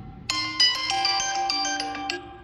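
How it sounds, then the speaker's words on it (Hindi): A phone ringtone plays on an iQOO Neo 11 smartphone, a bright melodic tone sequence with chiming notes, heard clearly and alone for a couple of seconds. "यहाँ से आप अपने फ़ोन में रिंगटोन चेंज करना चाहते हैं तो फ़ोन रिंगटोन पे सिलेक्ट करेंगे"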